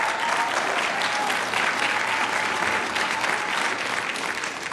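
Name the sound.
student rally audience applause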